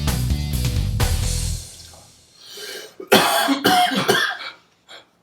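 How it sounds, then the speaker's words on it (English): A woman coughs hard several times in a rough, harsh burst, loud and close, after a stretch of music-like background that fades out. "She coughs like a man"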